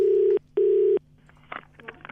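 A telephone line sounds two long, loud, steady tones separated by a short gap, followed by faint clicks and softer tonal blips as the call connects, no voices.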